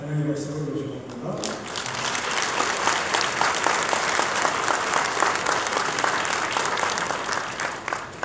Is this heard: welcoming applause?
yes